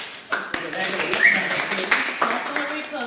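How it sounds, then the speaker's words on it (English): A room crowd at a real-estate team gathering breaks into applause for a gentleman, a dense wash of many hands clapping that swells after a sharp opening tap and carries on steadily, with talk mixed in. "A round of applause."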